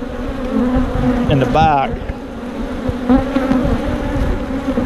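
Honey bees swarm around backyard hives, their dense buzzing hum steady and close throughout, with individual bees droning past the microphone while someone speaks briefly.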